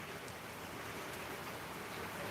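Steady rain falls throughout, a dense, even hiss of drops on surfaces with no breaks and no voices.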